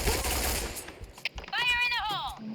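Rapid gunfire bursts from the video game Point Blank, fast crackling shots mixed with game effects and a rising synthetic tone, with a voice talking over part of it.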